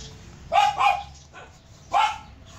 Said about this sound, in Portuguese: Ó a cachorra querendo pegar o gato.